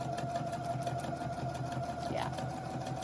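A sewing machine runs a zigzag stitch on a patchwork vest, a steady close mechanical whir with fast rhythmic needle ticking and no pauses.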